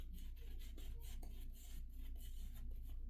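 A soft, rhythmic swishing and scrubbing of a shaving brush working up lather on a vegan-base shaving soap, repeated strokes close by with no voices.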